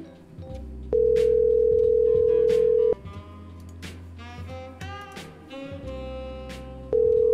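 A telephone line plays a long steady electronic tone, pauses amid low background noise and faint beeps, then the tone starts again, the kind of call tone heard before an automated voice message.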